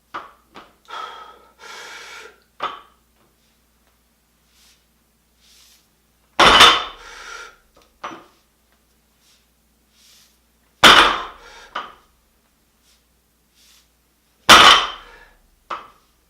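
A loaded 155-pound barbell set up for deficit deadlifts on a 3/4 inch platform drops back down three separate times with sharp, heavy metallic clanks. Each clank rings out loud and close, with hard breathing and gasps between the lifts.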